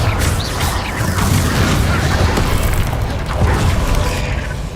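Confringo fire spell blasts in the video game Hogwarts Legacy, a loud continuous barrage of booming explosions and crashing impacts, heavy and sustained with no pauses.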